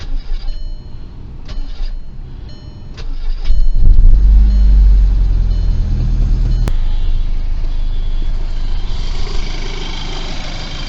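A few clicks, then a VW MK5 GTI engine, fresh from oil pump, timing chain and timing belt work, cranks and catches, settling into a steady rumbling idle, loud and close with no talking.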